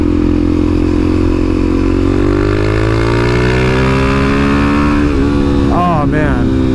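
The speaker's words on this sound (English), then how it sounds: "Now normally these bikes are not this loud. I put this exhaust on this bike." A Suzuki DRZ400SM supermoto fitted with a loud aftermarket exhaust revs hard and close, its rough engine note climbing steadily, then dropping and rising again with quick throttle blips near the end, someone talking over it.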